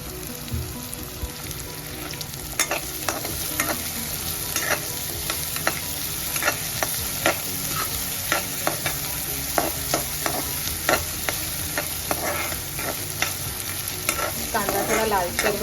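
Two medium chopped onions sauté in a pan with a steady, close sizzle, punctuated by repeated scraping stirs and small pops throughout, with no voices.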